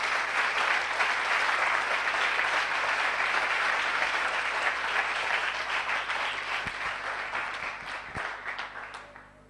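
Sustained applause from a church congregation, a dense wash of clapping that holds steady and then slowly fades toward the end.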